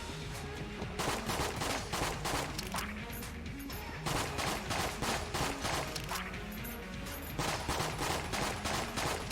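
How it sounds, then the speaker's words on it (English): Rapid, sustained gunfire from a weapon in the video game Enter the Gungeon, firing in dense bursts for the whole stretch with brief gaps between volleys, loud and alone with no voices. "I will spend all of the ammo in this gun"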